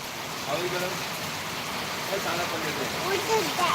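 Heavy rain falls in a steady, dense hiss that fills the whole stretch without letup, with a faint voice murmuring underneath.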